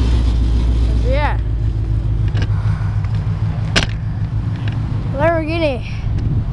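A Lamborghini Gallardo Spider sports car's engine gives a steady low idling rumble throughout, with voices and a couple of brief tonal sweeps over it.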